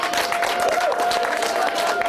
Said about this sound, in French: Applaudissez pour Patrick.